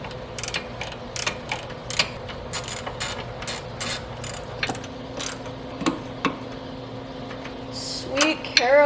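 A wrench works on tight sway bar bolts on a Mk7 Golf R in a shop, sounding as repeated close metallic ratchet clicks in uneven bursts, with a few louder clanks near the end.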